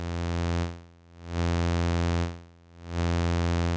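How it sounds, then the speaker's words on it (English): A rich, buzzy synthesizer VCO tone from a Kilpatrick Phenol swells up and fades down in a slow, regular cycle, rising and dipping about twice over a few seconds, heard in the left ear only. "we can hear the VCO fade in and out only on that ear"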